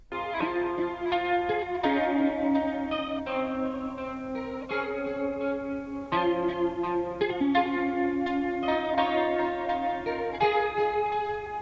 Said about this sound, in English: Together, the guitar part sounded like this.